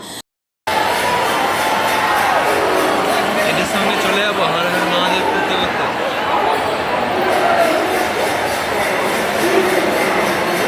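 A huge crowd fills Howrah railway station, a dense, steady wash of overlapping chatter and bustle that stays loud and close throughout after a brief silent opening.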